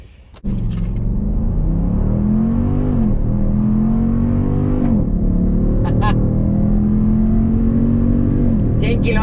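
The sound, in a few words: Dodge Durango SRT accelerating hard with Launch Control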